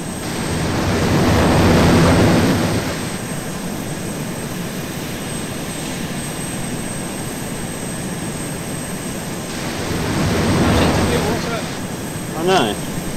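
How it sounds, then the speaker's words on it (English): A jet aircraft in ARMA 2 flies toward the players, its loud engine roar swelling around two seconds and again near eleven seconds, with a steady rumble in between. "there's a jet coming towards us"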